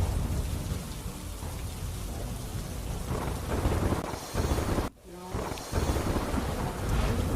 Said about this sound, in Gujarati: વલ્લભ વિદ્યાનગર શહેર, કરમસદ, બાકરોલ, મોગરી, સંદેશર, વલાસણ, ચીખોદરા તમામ વિસ્તારમાં અચાનક ધોધમાર વરસાદ વરસ્યો.